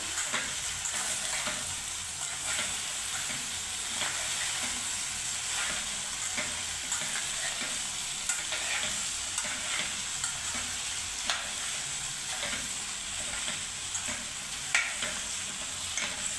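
Okra (lady finger) stir-fried in oil with masala sizzles and fries steadily over a lowered gas flame, with a continuous hiss and occasional stirring scrapes, close and moderately loud, no talking.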